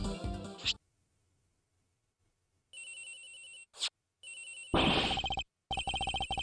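A phone ringing in the Ace Attorney Investigations video game. After a short silence, loud electronic rings repeat in steady bursts with brief gaps and a sharp noisy hit in between.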